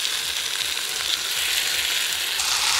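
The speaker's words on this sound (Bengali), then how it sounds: "এবার ফুলকপির ডিম দিয়ে দিচ্ছি" Cauliflower and egg mixture with onion greens frying in a pan, a steady loud sizzle filling the whole stretch with faint stirring scrapes underneath.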